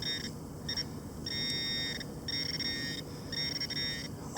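A metal detector gives repeated high electronic beeps over a small brass target buried in soft, rain-soaked dirt. The tones pulse in an uneven on-off rhythm, close and steady over a low rumble of rain.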